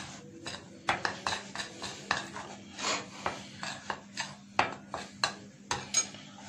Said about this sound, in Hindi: इसमें मैंने तमाम के तमाम जो है ड्राई स्पाइसेस जो है इसमें मैंने ऐड कर दिए हैं, और अब मैं इसको मिक्स कर रहा हूँ